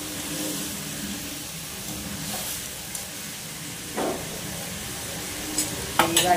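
Meat stirs and fries in a pan under a low, steady sizzle, with a few sharp scraping strokes of a spoon, two of them close together near the end.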